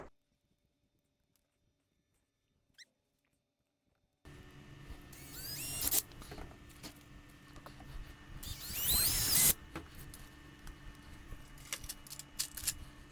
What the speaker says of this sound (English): drill the other 2 holes